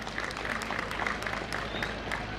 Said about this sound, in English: A bigger clap for the academic staff.